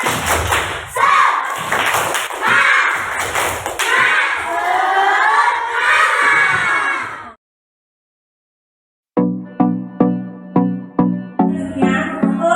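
A class of schoolchildren chants together, then after a short silence they clap in unison in a rhythmic spirit clap, a run of sharp, evenly spaced group claps.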